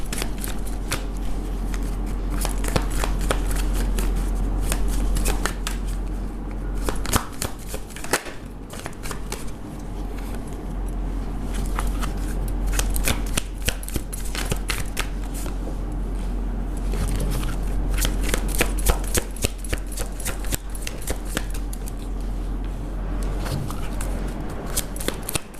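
Tarot cards being shuffled by hand, a dense, continuous riffling and flicking close by with brief pauses, over a low steady hum and faint speech.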